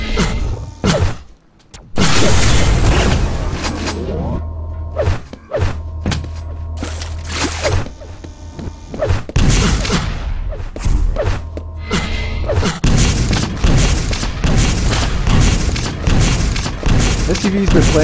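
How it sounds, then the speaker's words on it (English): Rocket launcher blasts in a Quake duel, a series of heavy thumping booms at irregular intervals over busy game noise, with a commentator talking throughout. "Great rockets by STV."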